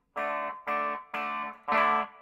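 Guitar played through a TWA Triskelion filter pedal with boost engaged, four sustained distorted notes in a row, each swelling in with a sharp, resonant buzzy tone and cutting off cleanly between strikes.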